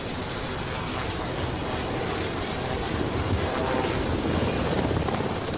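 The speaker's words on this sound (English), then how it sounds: "Once the helicopter is airborne," A steady, loud engine roar with dense rushing noise and no pauses, like a helicopter running nearby.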